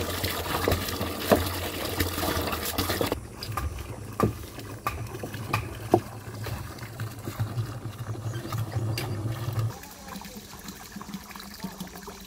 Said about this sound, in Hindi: और फिर हम इसको पानी से भर देते हैं और पूरे टाइम इसको हम घुमाते रहेंगे।